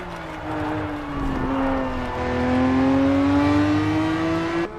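Porsche race car engine lapping the Nordschleife in Assetto Corsa EVO, a loud sustained drone that holds steady, then climbs in pitch as the car accelerates, with no talk over it.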